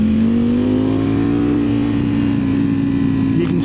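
A 2025 Ducati Streetfighter V4S motorcycle on a road ride, its V4 engine droning loud and steady with a slowly rising pitch, heard close up over wind noise.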